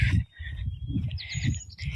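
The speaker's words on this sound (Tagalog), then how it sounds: "huni ng mga ibon," Birds chirp outdoors during a walk in Michigan, with faint high calls and trills running across the background. Low rustling or footstep-like sounds sit underneath them.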